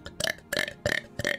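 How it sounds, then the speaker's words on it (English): Four rapid-fire burps in quick succession, close and loud with short gaps between, no talk. "I was rapid fire burping"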